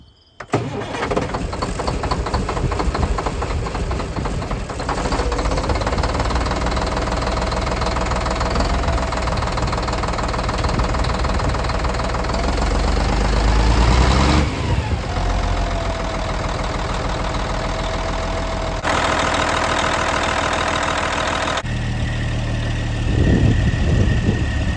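A Kenworth T800 rolloff truck's CAT C-12 diesel engine runs close and loud, a rough, knocking idle that rumbles steadily for the whole stretch, with brief revs and shifts in tone partway through and no talking.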